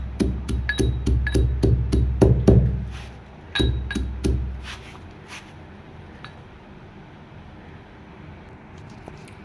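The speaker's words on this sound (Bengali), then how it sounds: "এখন আমি জিরেগুলো গুঁড়ো করব।" Cumin seeds pounded to powder in a kitchen: a rapid run of sharp, ringing knocks, about a dozen close strikes in the first few seconds, then a pause and a few more hits before the sound fades to quiet scraping.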